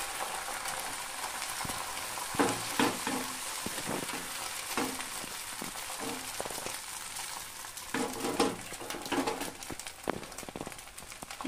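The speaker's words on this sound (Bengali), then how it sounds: "আবার একটু অয়েল ব্রাশ করে ডিমটাকে দিয়ে দেব।" An egg spread in an oil-brushed pan fries with a steady sizzle, broken by irregular louder crackles and pops throughout, close and without talk.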